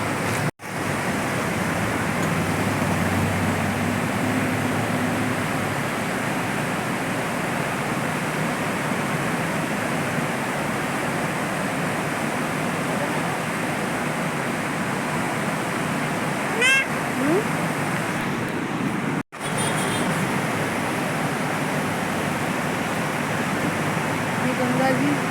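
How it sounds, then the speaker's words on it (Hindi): A full river Ganges flows past, its steady broadband wash of water continuing without a break for about 25 seconds, with a few faint brief sounds on top. "ये गंगा जी बह रही है, सरी गंगा।"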